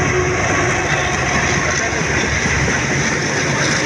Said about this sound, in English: Oh wow, this is the Indian train